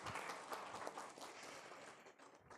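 Broad, steady applause from an audience fills the whole stretch, dense and even, fading slightly toward the end.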